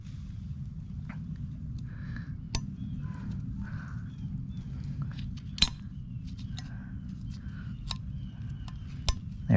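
Brake pad hardware clips snapping onto a Honda CR-V front caliper bracket make a few small, sharp metallic clicks, one louder near the middle, over a steady low rumble in a workshop.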